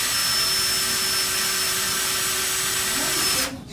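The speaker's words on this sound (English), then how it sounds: "Drill the second hole." A power drill cuts a second mounting hole into a patio door frame, its high steady whine running loud and close for over three seconds, then stopping sharply.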